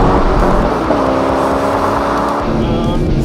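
A Ford Mustang or Chevy Corvette engine roars loudly at high revs in second gear during a drag race, sustained and close, with the pitch climbing steadily as it accelerates hard.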